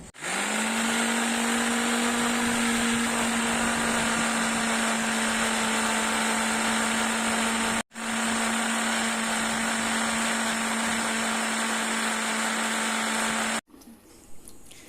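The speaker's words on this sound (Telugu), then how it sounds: "ఇవి మిక్సీ పట్టుకుందాం ఇప్పుడు." A kitchen mixer grinder blends watermelon with sugar and lemon juice, a loud steady whine running for about eight seconds, a brief stop, then another long burst before cutting off.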